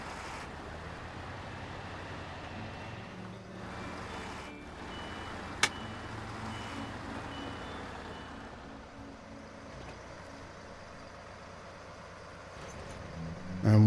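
A truck in SnowRunner backing into a garage, with a low steady engine drone, faint reversing beeps, a brief sharp click partway through and a louder surge at the end.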